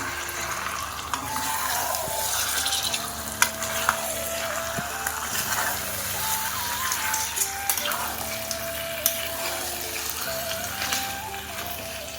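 Chicken pieces sizzle steadily in spiced oil in a kadai for a Bengali-style chicken curry. The even, close frying hiss runs throughout with a few light clinks, and no one speaks.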